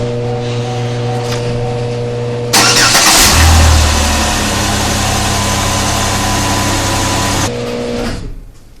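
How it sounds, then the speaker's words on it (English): A car engine cranks and catches abruptly, settling into a loud, steady run with the heater blower roaring at full speed, then cuts off near the end; no one speaks. "We're gonna run the car for a couple of seconds with the heater blasting also, the blower all the way up"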